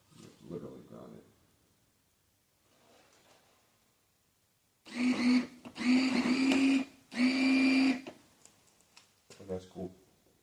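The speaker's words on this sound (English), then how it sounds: "So, there's your actuator." A 2003 Suburban transfer case actuator motor whirs in three loud, steady bursts of about a second each when grounded, with quiet gaps between them and brief talk before and after.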